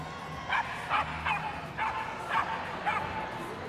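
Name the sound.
dogs barking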